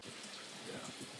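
Rain falling during a night film shoot, a faint, dense patter of drops in the background with no distinct thunder.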